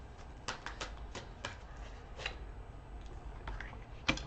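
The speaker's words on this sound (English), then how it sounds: "I'm shuffling again for some reason." Quiet, brisk riffling and tapping of tarot cards being shuffled, a series of soft crisp clicks at an uneven pace, close by with no talking.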